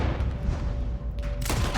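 Gunfire in Red Dead Redemption 2 booms across a dense, rumbling battle, ending in a sharp, loud blast near the end.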